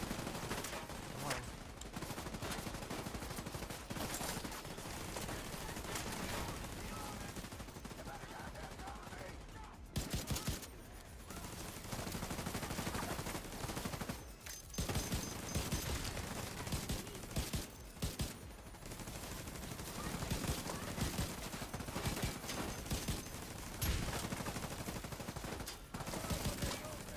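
Video game gunfire rattles in sustained bursts of rapid shots with brief pauses, loud and dense throughout, with a player talking over it.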